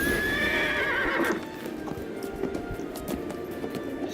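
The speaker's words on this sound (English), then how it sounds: "Kind of like this horse." A horse in a fantasy role-playing video game gives a loud whinny, followed by lighter clip-clopping hooves and soft movement sounds.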